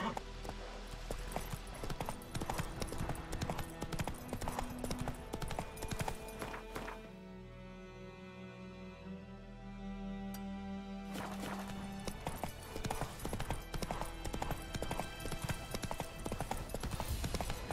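Hooves clip-clop in a fast, steady rhythm as a horse is ridden in the video game The Witcher 3: Wild Hunt. The beat fades during a quieter middle stretch with music, then returns loud and busy.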